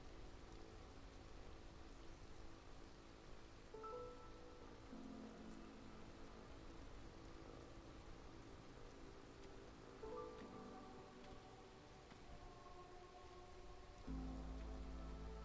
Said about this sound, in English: Oh, a storm. It is raining.